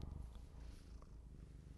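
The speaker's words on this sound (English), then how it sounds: "You're purring." A cat purrs softly and close, a faint steady rumbling rhythm with no talking over it.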